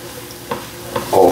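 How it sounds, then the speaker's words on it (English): Flour cooking into a thick paste in a pan gives a soft sizzle, marked by a few quick scrapes of stirring that build to a louder scraping burst at the end. "But we're gonna continue to toast that flour up."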